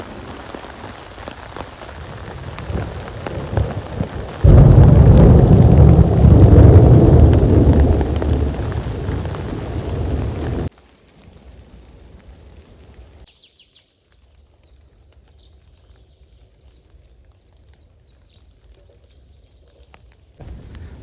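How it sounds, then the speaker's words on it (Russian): Heavy rain pounds down in a forest during a thunderstorm, swelling into a loud downpour with thunder rumbling, then cutting to a much quieter stretch with faint distant rumble and scattered drips. "гром еще гремит, но тоже все туда уходит"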